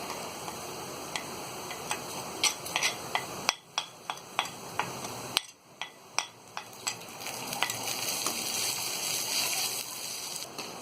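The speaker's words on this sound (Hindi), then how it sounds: "ये हल्दी चीनी भी डाल के हमने फ्राई कर दिया है।" Turmeric and sugar frying in a pan for poha, a quiet hiss with a run of sharp rhythmic ticks and taps from a utensil, briefly dropping lower midway before the sizzle returns.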